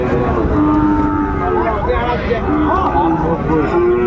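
Sahiwal breed bulls at a livestock market in Dinajpur, lowing over a steady crowd hubbub with near and distant moos while people talk throughout.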